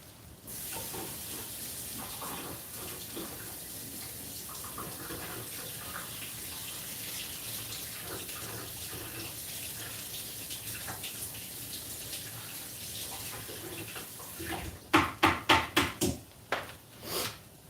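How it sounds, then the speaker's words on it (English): Tap water runs steadily as a pan used for raw egg is rinsed in a kitchen sink, a continuous close hiss and splash that gives way to a few short, louder clattering bursts near the end. "I'm going to rinse this off because we're going to reuse it. I don't want raw egg on it."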